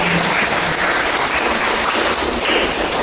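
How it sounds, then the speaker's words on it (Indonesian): Classroom audience in a teacher-training session applauding steadily and loudly for a few seconds, dense continuous clapping with no voices over it. "kita beri tepuk tangan untuk Pak"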